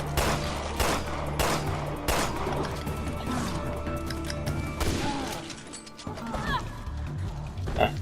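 Gunshots in Resident Evil Revelations 2, several sharp shots within a loud, busy combat soundscape of thuds, crashes and mechanical noise, with voices talking throughout.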